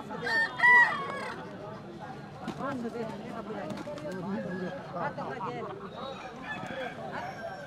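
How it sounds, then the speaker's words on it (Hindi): Roosters at a village cockfight in Bastar, with a brief loud crow near the start, then scuffling and clucking buried under a constant crowd of voices talking close by. "ये अब आपको लाइव दिखाएंगे कि कैसे मुर्गा लड़ाई यहाँ पर होती है। ये देखिए ये शुरू हो गई लड़ाई यहाँ पर।"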